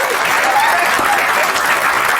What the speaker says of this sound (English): They just applauded my finger